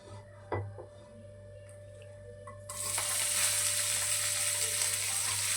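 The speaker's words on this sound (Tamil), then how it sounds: "எண்ணெய் காஞ்சதும் நான் கொஞ்சம் மிளகாவையும் 2 பச்சை மிளகா, கொஞ்சம் கொத்தமல்லி தழை அரிஞ்சு எடுத்து வச்சுருக்கிறேன்" Green chillies and chopped coriander leaves drop into hot oil, a few faint clinks first, then a loud, dense sizzle bursts out midway and holds steady and close to the end.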